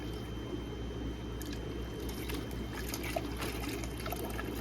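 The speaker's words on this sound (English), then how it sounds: "Then I pour it into here slowly" Water trickles slowly and gently from a fish shipping bag into a container, a soft, continuous low pour with faint drips, heard up close in a quiet room.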